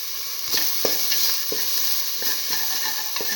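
Salted egg being stirred into an eggplant and split mung bean stew, a steady close sizzle broken by soft periodic scrapes of a spoon against the pot.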